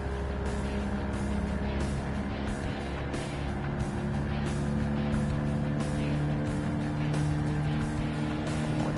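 A Fiat car driving the Nürburgring in a racing game: a steady, droning engine note held at near-constant pitch for the whole stretch, close and continuous, with faint periodic ticking in the background.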